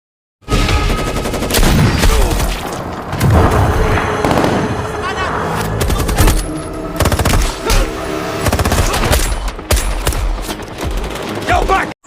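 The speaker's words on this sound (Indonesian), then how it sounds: "salah satu anak buah Shellback yang seorang sniper mampu menumbangkan beberapa penjahat" Dense, loud bursts of gunfire from an action film scene, with rapid rattling shots, heavy booming impacts and scattered voices blended into one continuous chaotic barrage.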